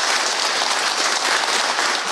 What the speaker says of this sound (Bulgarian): От бурните аплодисменти на жителите на Монтана